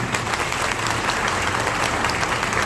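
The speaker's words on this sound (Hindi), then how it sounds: "इनके लिए जोरदार ताली" Loud, dense applause from an audience at a business gathering welcomes the chief guest, a continuous crowd of clapping hands holding steady throughout with no voices over it.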